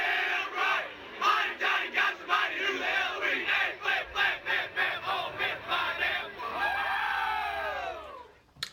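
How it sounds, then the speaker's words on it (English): The Ole Miss Hotty Toddy football chant is played as a lightsaber boot sound, a large crowd shouting in rhythmic, punchy bursts that build into a long sweeping roar, loud and close. "So that is the HOTTY TODDY Ole Miss chant that they chant at the football games."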